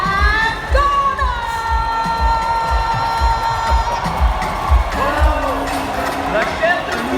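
A large stadium crowd cheers and whoops for Ghana's delegation arriving at the 2023 All African Games opening ceremony, a loud continuous roar with rhythmic thumping beneath it and scattered high shouts.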